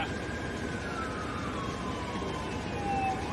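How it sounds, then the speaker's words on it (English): A wailing siren sweeps up and down over a steady rumble of traffic, fairly distant and continuous, during severe weather on the Gulf Coast. "I've been hearing nothing but sirens since I got it"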